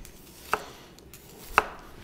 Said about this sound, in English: we're definitely making contact with the cutting board